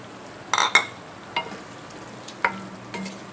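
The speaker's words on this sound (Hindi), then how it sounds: "अब इसको हम अच्छे तरीके से भून लेंगे" Beef frying in a pot with yogurt being stirred in, heard as a handful of scattered scraping and clinking stir strokes over a faint sizzle, with no voices.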